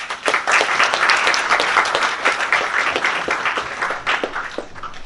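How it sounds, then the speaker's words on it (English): Audience applause at a talk on reinforcement learning with hunter and prey robots, a dense steady clapping that runs through the whole span at close range with no talk over it. "Applause"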